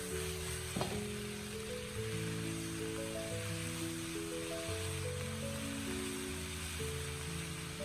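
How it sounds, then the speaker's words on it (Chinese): White radish stir-fried in a wok with dark soy sauce and oyster sauce gives a soft, continuous sizzle and the light scrape of turning, under a gentle melodic backdrop. "再次翻炒均匀，把萝卜炒出酱香味"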